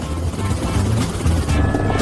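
A helicopter drones steadily overhead, its low rotor rumble and buzz filling the short stretch without a break.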